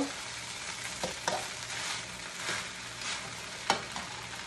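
Chicken pakoras frying in hot oil make a steady, close sizzle and crackle, with a few sharper pops and spatters breaking through the continuous hiss; no voices.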